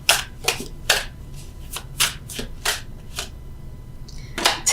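Tarot cards being shuffled and drawn at close range, a series of about eight crisp riffling bursts in an uneven rhythm with quiet pauses between.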